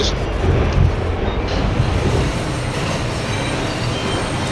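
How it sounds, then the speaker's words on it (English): Simulated New York City subway train pulling into 36th Street station in OpenBVE, a steady loud broadband rumble of wheels and motors with faint squeal, continuous and close throughout. "The train coming into 36th Street."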